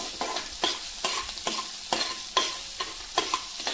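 Ginger-garlic paste stirred and fried in a pan for Rajasthani kadhi: close, regular scraping strokes about twice a second over a soft, steady sizzle, with no voices.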